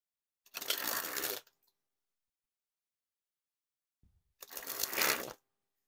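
Two separate bursts of Blue Knights playing cards by Ellusionist being sprung from hand to hand, each a dense, fast fluttering riffle lasting about a second, close and crisp, with silence between them.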